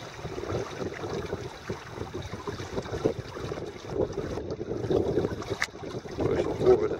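Gentle, irregular sloshing of Wadden Sea water against the hull of an anchored Drascombe Drifter 22 sailboat, soft and close, with faint wind rumble in the background.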